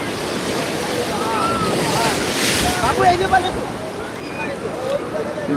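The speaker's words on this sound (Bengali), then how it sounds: "জোর আলোভাবে ঢেউ মারছে" Sea waves wash and break at Digha Mohona beach on a crowded morning, a continuous roar of surf mixed with heavy wind buffeting the microphone, with voices talking underneath.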